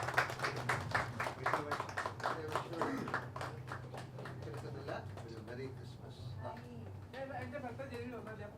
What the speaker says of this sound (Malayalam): ഓഡിയൻസ് നല്ലൊരു കൈയടി കൊടുക്കാം